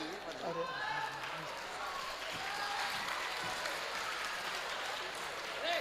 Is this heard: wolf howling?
no